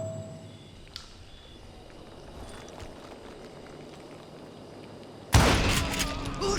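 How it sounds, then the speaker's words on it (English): Gunfire in the Western shooter Call of Juarez Gunslinger: a loud, sudden burst of shots erupts near the end after a quieter stretch of ambient game sound. "Who's shooting?"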